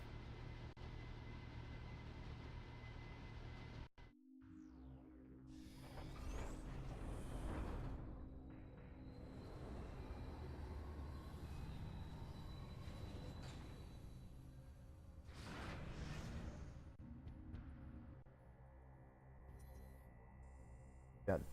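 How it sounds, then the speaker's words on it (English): A train in the Metroid Prime 3 video game glides along rails with a low, steady rumble, a faint metallic squeal and whooshing passes. Game ambience is heard alongside it, and a short sharp sound comes at the end. "let's see where this train takes us now"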